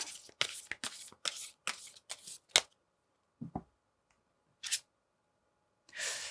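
Tarot cards shuffled in quick riffling bursts, then a few separate slaps and slides as cards are laid out, close and quiet with silent gaps between, no talk.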